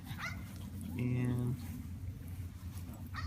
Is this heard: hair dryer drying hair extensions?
no